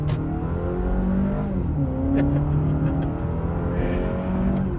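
A 2023 Honda CR-V Hybrid makes a hard right-hand turn. The engine hum shifts in pitch, rising and falling as it pulls through the corner under wind and road noise, with no one talking.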